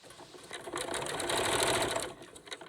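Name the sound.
sewing machine stitching rickrack and bias tape on face mask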